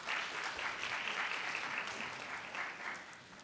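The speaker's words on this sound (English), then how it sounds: "Can we give Dr. Porter another round of applause," An audience at a school Black History Month program applauds Dr. Porter with steady, moderately distant clapping that holds evenly and fades slightly at the end.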